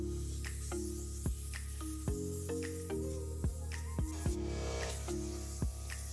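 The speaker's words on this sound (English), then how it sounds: "Gonna spray out these foot pads." A steady hiss of water spraying onto a riding mower's foot pads runs over a low running engine hum, with a few sharp knocks scattered through.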